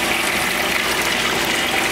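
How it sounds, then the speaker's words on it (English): Water from a laboratory flume drains through the dump valve opening and back into a sump tank, making a steady, loud, continuous gushing rush that holds even throughout with no pauses. "Then the water starts draining back into the sump tank through that hole under"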